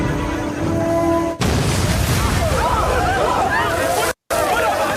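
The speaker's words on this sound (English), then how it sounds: "So the explosion you heard" In a film scene, a mine explosive detonates in a grassy field with a heavy rumbling burst that fades into a long noisy wash. Crowd noise and voices mix with the blast and its aftermath.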